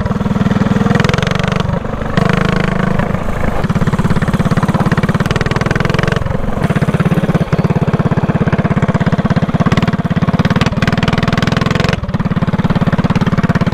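A loud go-kart motor runs steadily at close range, a dense, continuous engine drone with slight fluctuations and no speech over it.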